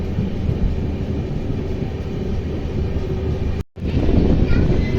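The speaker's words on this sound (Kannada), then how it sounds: "ನೋಡ್ರಿ ಟ್ರೈನ್ ಈಗ ಅಪ್ರೋಚ್ ಆಗಾಕತ್ತೈತಿ ಸೋಲೂರಿಗೆ" Hassan–Solapur Express, train 11312, running on the rails, heard as a steady loud rumble with wind noise from onboard, broken by a brief dropout near the end before the rumble returns.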